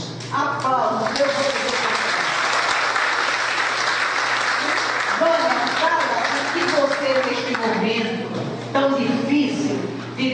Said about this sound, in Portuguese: Vânia é uma pessoa que merece mais aplausos.